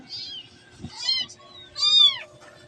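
Small stray cats, found dumped in a box, give several thin, high meows, the last one longer and rising, close by in a quiet room with faint background noise.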